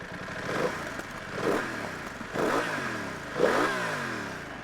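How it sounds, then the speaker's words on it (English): A 2023 BMW F 900 XR motorcycle engine revs up four times in a row, each rise sweeping its exhaust note higher before dropping back, loud and close. "The exhaust note is nice."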